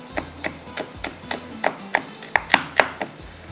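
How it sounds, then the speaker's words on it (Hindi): Garlic being coarsely crushed by hand for yakhni pulao, a steady series of about a dozen sharp, close knocks spaced roughly a quarter second apart, growing slightly louder toward the end, with no talking. "लहसुन को हम थोड़ा सा मोटा मोटा क्रश करके डाल देंगे"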